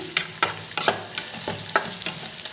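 Seasoning crackling and spattering in hot oil while cooking karchikayi palya, sharp pops and stirring clicks at an irregular rhythm over a steady sizzle, close and clear.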